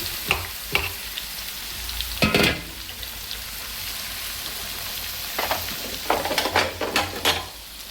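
Andhra gongura chutney frying in oil in a pan, a continuous sizzle broken by several sharp scrapes and clinks of stirring, close and moderately loud with no talking.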